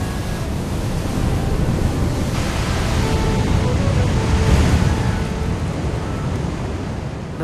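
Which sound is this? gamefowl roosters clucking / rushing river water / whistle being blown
rushing river water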